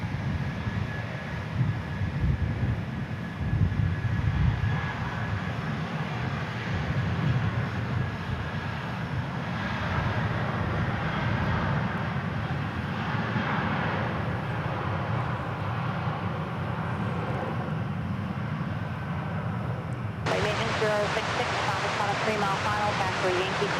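A Delta A220 airliner arriving from Salt Lake City at DFW Airport rumbles steadily as it rolls along, a sustained engine roar at middle distance that shifts in tone near the end.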